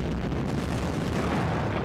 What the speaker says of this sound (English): I'm getting sick and tired of those mortars harassing me